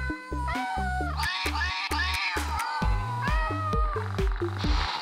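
A string of synthetic, pitched meows from a Project Mc² Circuit Beats electronic toy, using water, plays in quick succession over a bouncy electronic tune, bright and toy-like.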